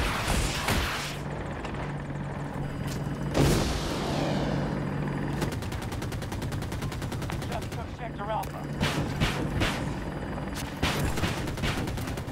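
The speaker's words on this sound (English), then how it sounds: "There's a chopper coming too." Helicopter rotor thumping as it approaches in the video game Battlefield 2042, mixed with heavy bursts of gunfire and explosions throughout.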